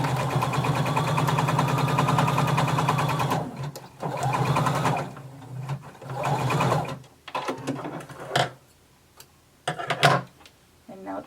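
Sewing machine stitching a 1 1/4 inch hem across the bottom of a garment, a loud, even run of fast needle chatter for a few seconds, then shorter bursts broken by clicks and handling noises.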